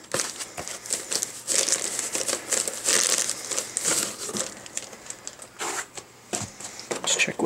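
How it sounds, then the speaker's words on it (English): Soft foam packaging from an NZXT Hale90 v2 1000W power supply gets handled up close, giving irregular bursts of crinkling and rustling with brief pauses between. "Nice styrofoam packaging. Actually, it's more of a soft foam."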